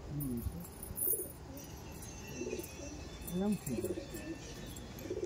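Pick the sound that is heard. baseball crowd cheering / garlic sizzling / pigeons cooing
pigeons cooing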